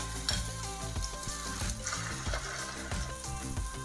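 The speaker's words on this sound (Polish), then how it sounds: "dodam ostatnią część masełka i będą się smażyć już ostatnie kotlety" Quiet, steady sizzling of chicken cutlets frying in butter in a pan, with faint crackles and a soft background hum throughout.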